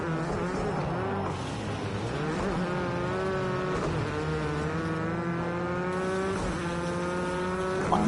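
Rally cars racing around a Norwegian track in the video game Rally Fighters, several taking a joker lap, with steady engine drones rising and falling in pitch as they rev and shift, continuous and moderately loud throughout.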